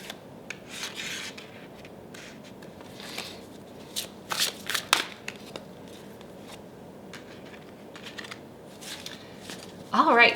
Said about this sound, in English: I'm gonna shuffle now.